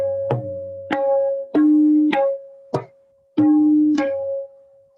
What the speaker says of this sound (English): So now I'll be playing Keherwa Tal, which is a very peppy tal.